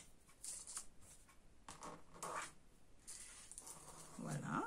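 Paper or card being folded for a multi-box craft, with short soft rustles and creases close by, faint, and a voice speaking near the end.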